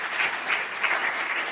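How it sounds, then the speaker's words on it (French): Brief burst of steady audience applause at a paediatric oncology conference in Switzerland, a bright close wash of clapping with gentle pulsing swells. "On peut vous applaudir, absolument."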